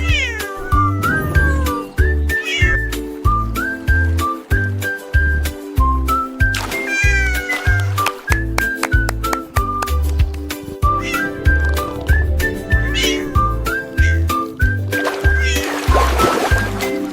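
A cartoon cat meows repeatedly over a bouncy children's song, the meows rising and falling in pitch atop a steady beat and melody, loud and clear in the mix.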